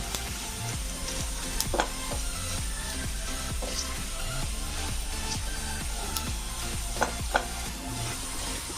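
Okra frying with ginger and a pinch of asafoetida for a vegetarian okra-potato curry, a steady close sizzle broken by repeated scraping and stirring knocks of a spatula against the pan.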